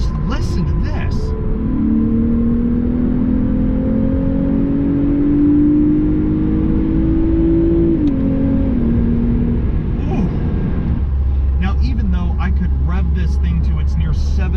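A 2021 Lexus RC350 F-Sport engine climbs in revs and then drops on a downshift, a rising drone over a steady cabin rumble, with a person talking over it.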